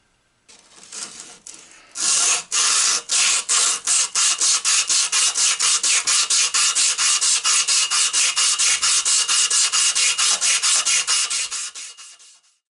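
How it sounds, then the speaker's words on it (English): A steel Carver clamp held in a vise is hand-sanded with emery cloth, producing fast, even back-and-forth rasping strokes, loud and close, repeating rhythmically for about ten seconds before tapering off. "give it a bit of a tidy up with a bit of emery paper or something in the vise"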